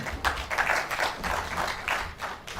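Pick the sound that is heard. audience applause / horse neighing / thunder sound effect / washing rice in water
audience applause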